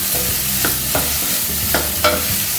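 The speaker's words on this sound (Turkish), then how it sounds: "Şimdi içine bezelyelerimi ekliyorum. birazcık karıştıracağım." Peas stirred in a cooking pot, a loud continuous sizzle broken by about four sharp scrapes of a spoon against the pot, with no talking.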